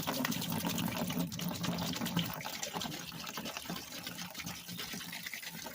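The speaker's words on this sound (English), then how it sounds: "And then I'm going to pour it into the bucket." Liquid is poured into a bucket during gold scrap melting work, a steady gushing, splashing stream that runs continuously and softens slightly toward the end.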